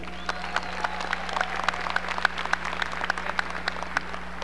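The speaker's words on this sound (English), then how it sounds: "let's give a warm round of applause to our speaker, Ms. Cheryl A. Harris." A graduation audience gives a speaker a steady round of applause, with sharp individual claps standing out over a continuous crowd wash and a low electrical hum underneath.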